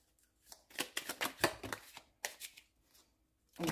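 Oracle cards being shuffled for a reading, a run of quick crisp riffling bursts close up, pausing briefly and starting again, with no talk over them.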